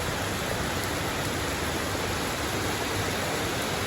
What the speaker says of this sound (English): Yes, the proper rain.